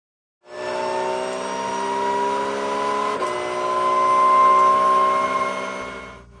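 A race car accelerating on the Road America track: a loud, steady engine drone rising smoothly in pitch as it pulls through the gears, with one brief gear change midway.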